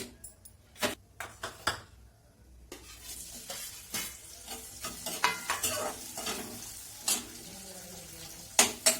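Chopped onions fry in a pan for fenugreek (methi) sabzi. A soft sizzle runs underneath while a utensil stirs and clinks against the pan in irregular, sharp knocks. The whole scene is quiet and close.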